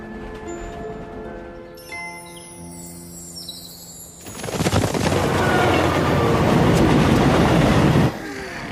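An animated cartoon train rolls along its rails as a herd of bison closes in. The steady, loud rumble and clatter begins partway through, taking over from quieter music-like tones and holding until near the end.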